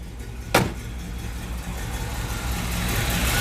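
The engine of a 1961 Chevrolet Impala Bubble Top with a 4-speed automatic transmission, running at a steady low idle: a continuous rumble, close and fairly loud, after one brief sharp click near the start.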